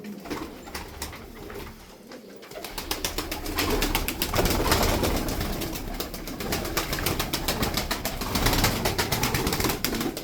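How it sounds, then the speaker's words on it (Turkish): Rapid, loud fluttering of Malatya tumbler pigeon wings beating continuously, close by, with a few soft coos mixed in. "Bakın kanat sesine bakın kuştaki."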